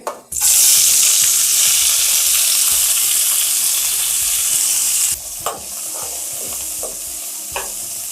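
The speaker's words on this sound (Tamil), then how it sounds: "இது நல்லா ப்ரௌன் ஆகிற வரைக்கும் வறுக்கணும்." Loud, steady sizzling of sliced onions frying in hot oil, with occasional stirring clinks and scrapes near the end; no voices.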